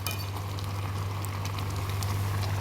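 Water boiling in an outdoor farm setting to cook Maggi noodles, a steady low bubbling rumble with a constant hiss, close and unbroken, no voices.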